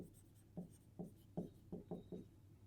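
A math solution is written out by hand in quick, scratchy pen strokes, about six short bursts in an uneven rhythm, faint and close, with no talking.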